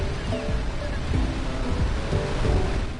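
Rushing river water in the video game Jak & Daxter, a loud, steady broadband roar of flowing water that runs unbroken throughout, with faint tonal sounds drifting over the top.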